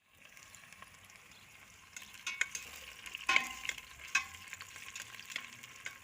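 Spicy peppers and stew vegetables fry in a pot for a hobo-style beef and tomato stew, a steady low sizzle with sharper crackles and scraping stirs partway through, close and fairly quiet with no talk.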